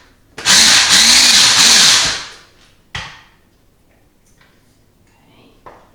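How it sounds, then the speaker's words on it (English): A small food processor blitzes cauliflower into rice in one loud whirring burst of about two seconds that revs up and cuts off, followed by a short clatter and a few faint knocks. "put some cauliflower into a little food processor and I'm just blitzing it"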